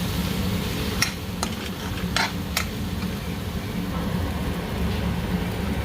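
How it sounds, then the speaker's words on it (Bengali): Spices such as turmeric, chilli powder, cumin and coriander powder frying in oil in a pan for crab malai curry, giving a steady close sizzle with a few brief scraping or stirring clicks and no talk. "এটা শুকনো মশলা না, এগুলো ভাজা হয়ে যাবে, বেশি ভাজলে পুড়িয়ে যাবে।"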